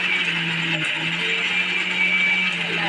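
A mixer grinder blends tomato and onion into a paste for paneer butter masala, a loud, steady whirring motor hum that carries on throughout with a brief dip, and no talking.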